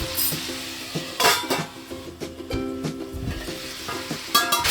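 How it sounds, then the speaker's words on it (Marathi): Chicken sizzles and fries in a hot pan with whole spices while a utensil stirs and scrapes at intervals, steady close frying under occasional clinks, no voices. "साधारण चिकनचा कलर चेंज होईपर्यंत परतून घ्यायचं आहे"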